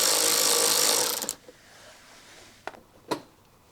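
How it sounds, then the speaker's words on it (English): A power driver whirs loudly for about a second while backing out mud flap fasteners on a 2020-or-later Silverado/Sierra 2500HD/3500HD, then stops, followed by a few sharp plastic clicks and pops. "I'm going to use this driver. We'll make pretty short work of it."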